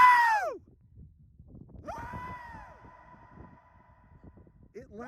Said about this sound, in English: The echo is insane when we're screaming at Casper Mountain.